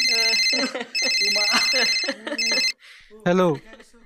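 A telephone rings nearby in bright, tonal electronic bursts with short pauses, ending in a final brief ring, and someone speaks between the rings.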